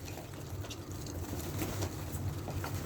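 Tumbler pigeons, including a blue pied roller, give faint low coos and rustle against a steady, noisy background, quiet and somewhat distant.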